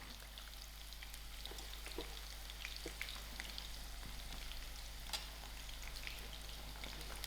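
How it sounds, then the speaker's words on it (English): Okra (bhindi) fries in a pan of hot oil, giving a quiet, continuous sizzle with scattered small pops and crackles, close-up and steady, over a low constant hum. "Now that the oil is hot, I'm just going to start frying up"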